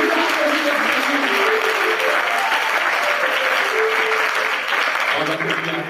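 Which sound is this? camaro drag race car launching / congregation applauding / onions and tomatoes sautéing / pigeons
congregation applauding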